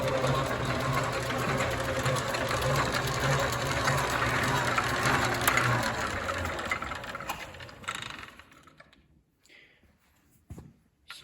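An antique South Bend lathe runs with a steady mechanical whirring and clatter of gears turning the lead screw, then winds down and stops, leaving a few faint clicks.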